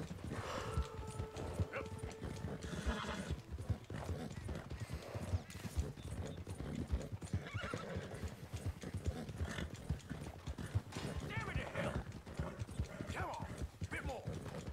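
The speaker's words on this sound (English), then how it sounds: "I don't like the fact it takes this long to ride a horse across the map." A horse ridden across open country in Red Dead Redemption 2 gives steady, rhythmic clip-clop hoofbeats with occasional whinnies, running continuously at moderate level throughout.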